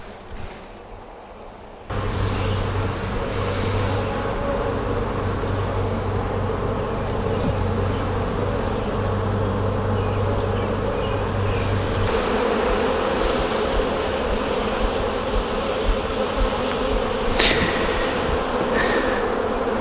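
Honey bees drone in a dense, continuous buzz around an opened hive during a June honey flow, close and steady throughout with no talking.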